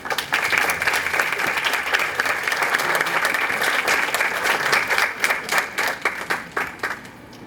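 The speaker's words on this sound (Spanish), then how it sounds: "recibámosla con un fuerte aplauso" An audience at an education lecture gives a loud welcoming round of applause to a Harvard-trained World Bank education specialist; dense clapping holds steady, then thins into scattered individual claps as it dies away.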